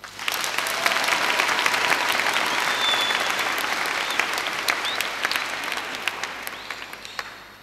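A church congregation claps at length to welcome Cardinal Protase Rugambwa, the many-handed applause swelling early, holding full and even, then thinning and fading toward the end.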